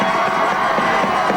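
A crowd at a 1988 Olympic torch relay celebration in Cranbrook cheers for the mascot Heidi, a dense, steady roar of many voices with no pauses across the brief moment.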